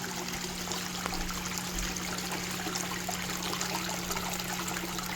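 Steady rushing and trickling water runs continuously from a pump feeding aquarium overflow boxes, with a low constant hum beneath it, no voices.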